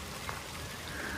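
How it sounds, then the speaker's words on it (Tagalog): Rain falls on an apple farm, a soft, steady patter of drops in the open with no one speaking. "Yan na, umulan na."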